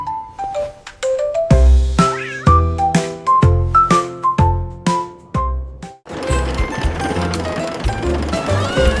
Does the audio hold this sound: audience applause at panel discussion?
no